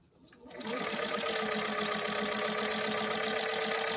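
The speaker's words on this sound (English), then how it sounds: "Now we're laying down about 20 stitches per inch." A 1931 Singer 101-4 sewing machine starts up and stitches with a leather needle through nylon material, a sudden onset into a loud, steady, close hum with fast even needle chatter.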